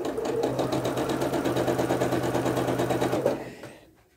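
Sewing machine stitching rows of a cream and blue quilt block together, a fast even mechanical whir with rapid needle clatter, close and steady, then slowing and stopping near the end.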